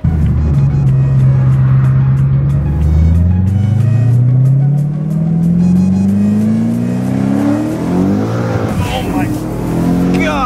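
Gintani-tuned twin-turbo E92 BMW M3 making 850 hp accelerates hard from inside the cabin, its engine note climbing steadily in pitch through a long pull and then shifting, loud and continuous, with an occupant talking over it.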